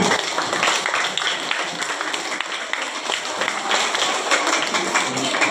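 A school audience applauds as a sports teacher is introduced at a student orientation gathering, steady dense clapping continuing throughout at moderate loudness.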